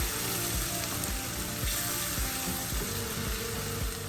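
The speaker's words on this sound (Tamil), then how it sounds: "இதில் இதை நம்ம நல்லா வறுத்து எடுத்துக்கணும்." Spices fry in butter and oil left from frying chicken, in a pan for chicken palak makhni, with a dense, loud, continuous sizzle and crackle heard close up, plus faint knocks underneath.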